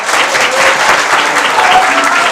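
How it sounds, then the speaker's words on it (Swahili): An audience bursts into dense, sustained clapping for a student on a comedy stage, loud and close, with no break for the whole moment. "Mpigeni makofi jamani."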